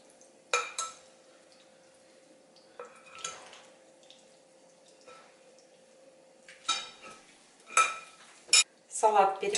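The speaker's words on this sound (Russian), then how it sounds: "Салат хорошенько перемешиваю." A salad being tossed in a bowl after pepper and dressing are added: scattered clinks and scrapes of utensils against the dish, a few louder clattering bursts near the end, with no voices.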